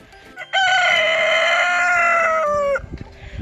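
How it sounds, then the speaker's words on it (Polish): A large Brahma rooster crows loudly and close by, one long sustained cock-a-doodle-doo lasting about two seconds, with faint farmyard noise before and after. "Kogut wielki."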